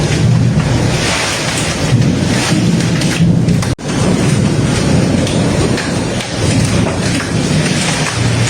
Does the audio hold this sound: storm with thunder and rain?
yes